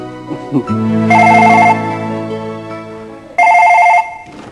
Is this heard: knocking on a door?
no